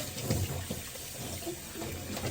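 Running water splashing as a big sponge is dunked for cleaning a car wheel, soft irregular sloshing and gurgling, fairly faint and close.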